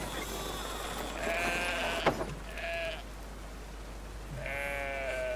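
Sheep bleating in the video game Brothers: A Tale of Two Sons, several wavering calls at a moderate level over steady game ambience, with a brief thump partway through.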